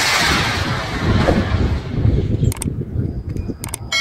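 A small homemade rocket motor roars with a loud, rough hiss for a couple of seconds, then fades, leaving sharp clicks and rustling.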